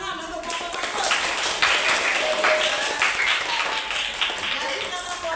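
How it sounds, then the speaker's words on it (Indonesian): A classroom group gives applause for the first team after its presentation on the hijra of the Prophet Muhammad, a close, lively burst of clapping with some voices mixed in. "Tepuk tangan untuk kelompok 1."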